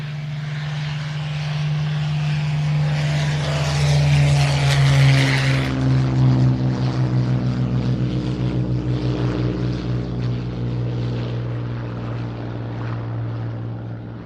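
A Spitfire's piston engine drones loudly at an airshow at IWM Duxford, a deep propeller growl swelling as it takes off and then fading gradually into the distance.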